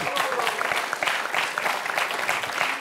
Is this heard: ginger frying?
no